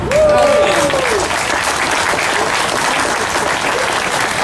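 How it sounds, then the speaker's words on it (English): A crowd at an outdoor memorial dedication in Ponchatoula applauds loudly and continuously, a dense steady clatter of many hands, with a voice briefly heard over the start. "Let's give a big round of applause for our police force"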